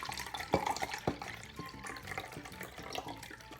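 Water pours steadily into a pot of rice nearby, a soft continuous splashing with a few brief drips and clinks.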